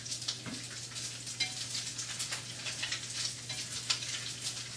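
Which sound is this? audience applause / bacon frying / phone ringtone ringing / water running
bacon frying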